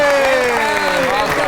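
A studio audience breaks into loud applause to welcome a guest on a comedy talk show, with steady clapping and a faint tonal sweep running underneath.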